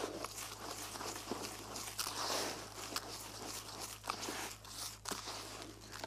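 Corn-scented carp feeder groundbait is worked together with water by hand on a quiet fishing bank at Maty-ér, Szeged, giving steady close gritty crunching and soft squelching with no talk.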